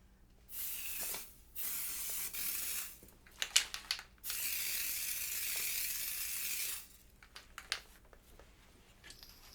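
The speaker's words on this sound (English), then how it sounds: "after I get through spraying it" Spray can hissing in several bursts, short ones at first and then a long sustained spray of a few seconds, close and fairly quiet with faint clicks between, no talk.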